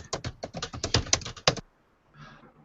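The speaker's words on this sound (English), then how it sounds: "We can hear your typing really loud." Rapid clattering keystrokes on a computer keyboard, loud and close, in an uneven burst for about a second and a half, then stopping, followed by a faint soft rustle.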